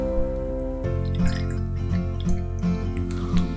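Water drips from a pipette into oil, giving a series of small, close, plinking drops at an irregular pace over a steady low hum.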